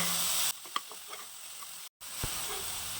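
Brinjal sautéing in a pan with salt, turmeric and asafoetida, a steady close sizzle broken by a few scattered pops and stirring clicks, with one brief cut to silence near the end.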